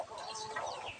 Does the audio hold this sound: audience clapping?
no